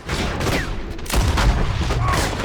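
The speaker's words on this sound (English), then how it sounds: "Shoot those bastards! Let's run these cowards out of town!" Shootout in Red Dead Redemption 2 with a steady din of mixed gunfire, several louder shots standing out near the middle against a busy background of in-game battle noise.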